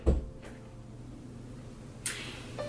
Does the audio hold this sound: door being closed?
yes